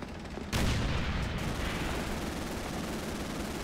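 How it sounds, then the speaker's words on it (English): Gunfire rings out in Call of Duty 3, a World War II shooter, starting with a sharp close blast and rolling into a dense, sustained barrage of shots and booms that fills the whole stretch. "Why am I the only one firing on them?"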